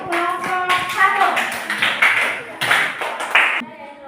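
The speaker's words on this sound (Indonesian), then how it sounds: "tepuk tangan untuk kelompok 1." A classroom of students claps for a student group that has just presented, a dense burst of hand claps close by with voices talking over and through it.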